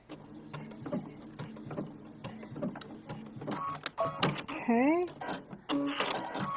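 A sewing machine stitches a quilt block in short mechanical bursts of rapid clatter, close and moderately loud, with someone talking over and between the runs.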